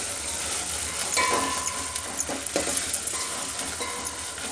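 Ginger garlic paste frying in a pan for sambar, giving a steady loud sizzle with occasional stirring scrapes over it throughout, with no talk.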